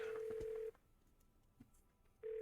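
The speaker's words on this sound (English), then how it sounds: "Let's call Bess" A phone in the video game Nancy Drew: Ghost of Thornton Hall dials out, with a sustained tone, a short gap holding a couple of faint clicks, and the tone resuming.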